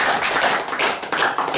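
Crowd applause at a Kazakh betashar wedding ceremony, a dense, steady wash of many hands clapping, loud and close, with slight dips in intensity.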